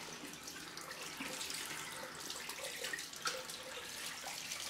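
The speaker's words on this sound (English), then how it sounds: "Get some cold water running here." Cold water runs from a tap into a sink after a straight-razor shave, a continuous close splashing hiss with slight fluctuations.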